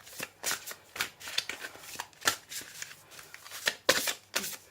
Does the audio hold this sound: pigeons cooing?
no